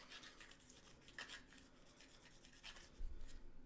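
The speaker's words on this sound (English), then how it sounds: "It kind of helps to take a brush, just sort of get down in there." A brush scrubs down inside the magazine well of a Sig Sauer P365 pistol during cleaning, making faint, intermittent scratchy strokes in short bursts with no talking.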